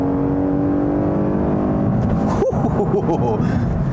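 A 2019 Lexus IS 350 F-Sport with a six-speed automatic hums steadily as the car drives, the engine note dipping briefly at a gear shift partway through, a continuous close cabin drone.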